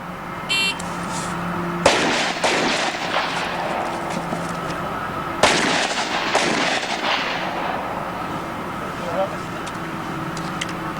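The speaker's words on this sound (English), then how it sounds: "you want to stay behind cover, shoot that target, and that's when your time stops" Gunshots fired at targets during a timed shooting drill from behind cover, two loud sharp reports several seconds apart with a ringing decay, over steady outdoor background and occasional talk.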